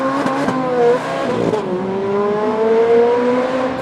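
A rear-wheel-drive car drifts with its engine revving hard, rising and falling pitch sweeping over a couple of seconds, with tyre squeal layered in, heard fairly close and loud with no talk.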